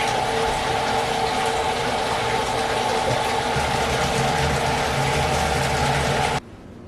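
Water pours steadily into a bathtub for a bubble bath in a loud, even rush, then cuts off abruptly near the end, leaving quieter room tone.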